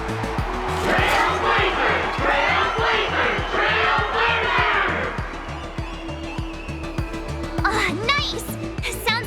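Game crowd cheering and roaring at a tournament festival in Honkai Star Rail, a dense, loud wash of voices sustained through most of the stretch, with character speech over it and a rise again near the end.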